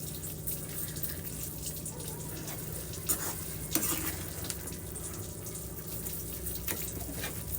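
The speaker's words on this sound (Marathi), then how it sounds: "साखर छान अशी विरघळेपर्यंत याला फ्राय करायचं आहे" Sugar being stirred and fried in a pan while making carrot halwa: a steady low sizzle with scraping spoon strokes and a couple of sharper clinks, close and moderately loud, no talking.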